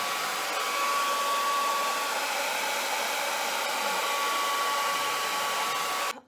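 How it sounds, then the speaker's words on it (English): Hair dryer blowing steadily at close range to dry faux metal paint on a base board, a constant whooshing hiss that runs unbroken for about six seconds before cutting off abruptly. "I'm going to take a hair dryer and I'm just going to dry this to touch"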